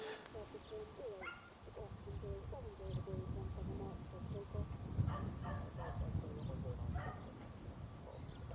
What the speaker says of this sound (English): The plane isn't barking, that's just some dogs